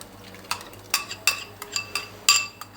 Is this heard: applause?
no